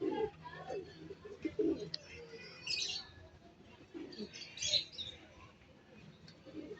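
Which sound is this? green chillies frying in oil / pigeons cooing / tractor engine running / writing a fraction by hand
pigeons cooing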